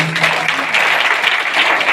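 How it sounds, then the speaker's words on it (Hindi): A church congregation claps loudly after a sermon, dense continuous applause close and strong throughout the short stretch. "जोरदार ताली।"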